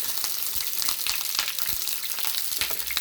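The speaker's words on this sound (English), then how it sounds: "I'm going to sear my chicken, okay? So we basically just want it to like brown on both sides." Chicken sears in hot oil in a pan, giving a dense, continuous crackling sizzle up close with no voices.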